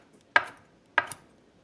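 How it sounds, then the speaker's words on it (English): A knife chops through tender chicken on a cutting board in a home kitchen, two sharp distinct strikes spaced about half a second apart, close and fairly quiet with a small extra tap after the second. "So I'm just chopping up some chicken"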